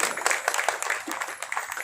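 Audience clapping during a Ramcharitmanas recitation at a temple in Moga, a brief burst of scattered, fairly close applause with voices mixed in.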